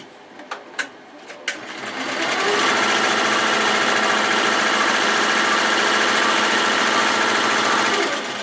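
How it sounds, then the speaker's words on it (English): An embroidery machine stitches along the bottom edge of an in-the-hoop boxed bag, a few sharp clicks first, then a loud, steady, rapid mechanical whir that runs continuously to the end. "So it's going to sew along the bottom as well."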